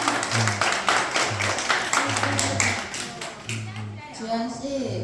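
Audience clapping welcomes a teacher stepping up to give a congratulatory speech at a graduation, a brisk patter of hands heard under a voice, tapering off toward the end.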